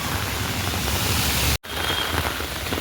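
Heavy rain pours steadily in Vesu, a dense, loud hiss of drops striking surfaces with no voices, broken by a brief cut to silence midway before resuming.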